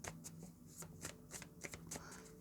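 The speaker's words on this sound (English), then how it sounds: "Just going to give it a shuffle." Tarot cards being shuffled by hand, a quick run of crisp riffling snaps and soft slides, close and clear with no talk over them.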